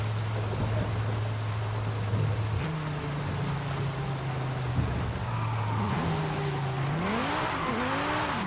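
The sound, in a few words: Viper V10 car engine racing in Forza Horizon 5 video game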